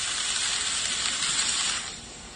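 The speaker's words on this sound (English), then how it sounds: "the sound of frying food" Frying bacon used as a stand-in for rain, giving a dense, bright sizzle that holds steady and loud, then eases slightly near the end, with no talk over it.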